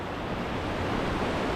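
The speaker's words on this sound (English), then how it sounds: "Wow, what a beautiful waterfall." A waterfall on Scotland's NC500 west coast roars as a dense, steady, unbroken rush of water, loud and close, with no voices.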